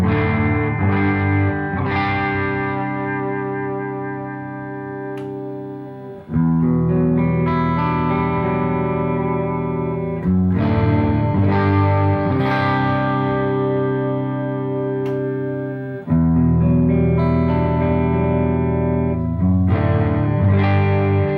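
Distorted chords on a PRS SE Custom 24 electric guitar's treble pickup ring out one at a time, each struck and left to sustain for several seconds with a bright, trebly tone and effects.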